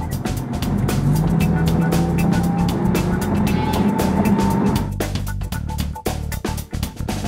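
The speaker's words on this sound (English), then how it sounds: "We're taking the new 2012 Bentley Continental GT for a spin around New York City." A 2012 Bentley Continental GT drives through New York City, its engine droning steadily with a rising tone heard from inside the car, then settling into a rougher, bumpier rumble toward the end.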